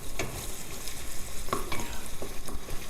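Garlic, onion and herbes de Provence simmer in a pan, a close steady crackling sizzle broken by a few light clicks of stirring utensils.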